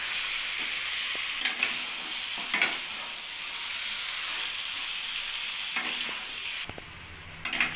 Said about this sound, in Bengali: এবার চিকেনটা মশলার সাথে ভালোভাবে কষিয়ে নেব।